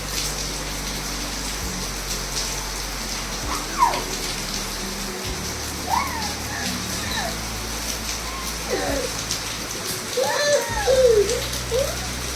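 Steady rain falling outside, a constant broad wash of water heard close and moderately loud, with voices talking softly over it at times.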